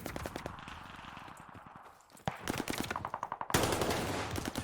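Rapid automatic gunfire bursts in Call of Duty Vanguard as boards get shot out, loud and close, with dense rattling volleys that pause briefly near the middle before resuming heavier.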